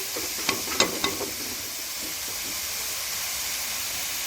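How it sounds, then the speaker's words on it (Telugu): Onions fry in hot oil for gongura mutton curry, a steady close sizzle and hiss with a few sharp stirring scrapes early on. "ఆనియన్ అనేది మంచిగా గోల్డ్ కలర్లో ఫ్రై కావాలి"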